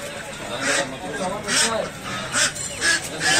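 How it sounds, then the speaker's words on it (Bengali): A goose honks in several loud, nasal calls at a busy poultry market near Motijheel Colony in Dhaka, mixed with other fowl and people talking nearby. "আর এটা হলো রাজহাঁস"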